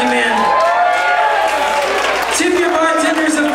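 Crowd at a small bar gig cheers and applauds for the sound man between songs of an acoustic set, loud and steady throughout with whoops over continuous clapping and voices.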